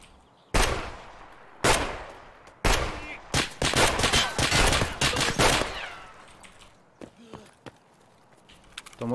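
Bursts of automatic gunfire in the Escape from Tarkov shooter game, several loud sustained volleys with short gaps, then scattered single shots and footsteps trailing off; no talk over it.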